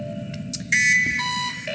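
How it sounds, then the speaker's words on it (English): A short electronic alarm in the Planetbase game sounds at the ten-minute mark, a few bright beeping tones stacked over a low background hum, brief and fairly clear. "that's the alarm going off for the 10-minute mark"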